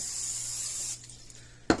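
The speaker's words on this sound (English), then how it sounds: "Take a little bit of the spray. Just spray them." A continuous hissing spray from an aerosol can of cooking spray onto tater tots runs for about a second, then stops, followed by a sharp clack.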